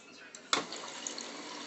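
Water runs from the dispenser of a GE refrigerator newly hooked to a water line, a steady stream after a short burst of onset, a little splashing in a glass close by, with no talk.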